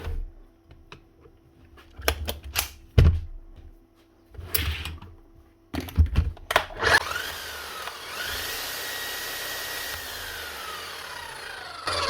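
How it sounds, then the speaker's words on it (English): A brand-new Bosch GSH 11 E demolition hammer with a replaced O-ring, first handled with scattered knocks and clunks, then started so its motor spins up with a rising whine and settles into a steady, loud running drone. "One brand new Bosch hammer with a missing O-ring. Put back in, hopefully now working correctly."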